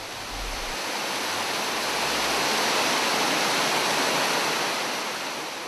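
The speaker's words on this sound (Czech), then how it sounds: "Nad ní už je jen Labský vodopád" Labský vodopád, the Elbe waterfall high near the river's source, roars in a steady broadband wash, close and constant, with no voices.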